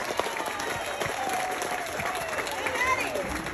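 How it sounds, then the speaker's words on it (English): Spectators at a county fair livestock show, at a barrow class, applaud a young lady exhibitor with steady, moderate clapping while voices carry on alongside it. "Let's give her a nice big round of applause."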